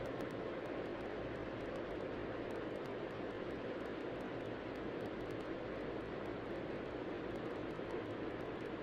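Airliner jet engines roaring during a takeoff roll on runway 8 right at Atlanta in the air traffic control sim Tower!3D Pro, a steady, dense, broadband rumble holding at constant loudness throughout with no voices.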